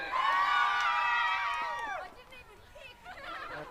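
A crowd cheers and whoops at a women's hockey grand final after the coin toss, loud and sustained for about two seconds before fading into scattered voices.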